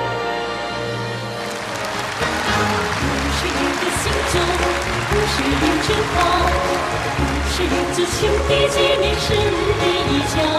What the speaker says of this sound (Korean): 장내에는 열렬한 박수가 터져 올랐습니다